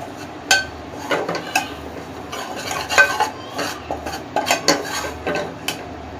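A spoon scrapes and clinks against a pan while flour is stirred for white sauce, with irregular metallic taps and scrapes over a soft low background, close and without talk.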